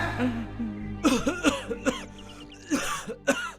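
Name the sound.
coughing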